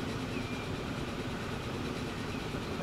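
A train moving in the video game Transport Fever 2, giving a steady, low rolling rumble and rail noise with no talking.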